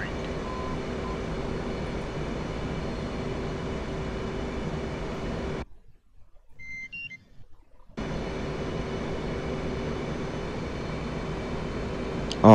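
Steady roar of an F/A-18 jet engine in the DCS flight simulator, a continuous loud whine with a tonal hum that drops out briefly to near silence for about two seconds before resuming.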